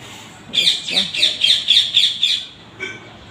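Parrot squawking near a guava tree, a quick run of about eight harsh, close calls followed by one more after a short pause.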